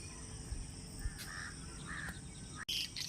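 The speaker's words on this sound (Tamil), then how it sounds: "இந்த தென்னை மரத்தில் வந்து குருவி கத்துது" Birds calling from a coconut tree around houses: a few harsh, short cries over a constant high insect-like buzz, fairly distant, with no talking.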